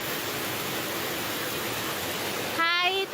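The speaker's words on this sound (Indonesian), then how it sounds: "banjir seperti air terjun terjadi di OSM Ambon." Floodwater after heavy rain pours like a waterfall through an alley in Ambon, making a loud, steady rushing roar; a voice briefly cuts in at the very end.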